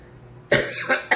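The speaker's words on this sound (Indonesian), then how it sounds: "Tuh sampai batuk saya" A man coughs three times in quick succession, sharp and close, while speaking about a political campaign.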